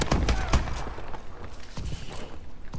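Rapid bursts of gunfire from a gun in a video game, a few sharp close shots up front, then a dense ongoing clatter of game noise.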